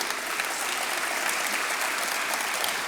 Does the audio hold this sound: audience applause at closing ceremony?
yes